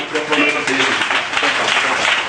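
A church congregation at a sermon breaks into sustained, dense applause for the Lord, loud and close throughout, with voices mixed into the clapping.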